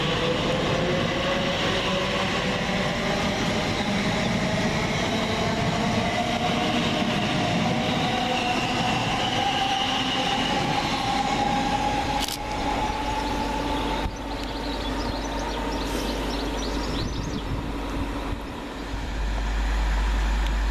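A Class 345 TfL Rail electric train pulls away from Burnham station, its steady rising motor whine and rolling rumble sustained and loud for the full stretch, with a few sharp clicks and no talk.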